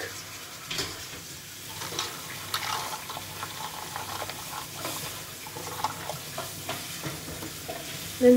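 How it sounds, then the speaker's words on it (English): Milk is poured into a bowl of corn flakes, a soft, continuous splashing and crackling pour at close range. "Pour some milk."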